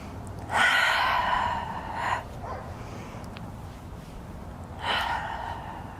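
Breathing during a yoga twist: two long audible breaths, a strong sighing exhale early and another shorter one near the end, close and alone.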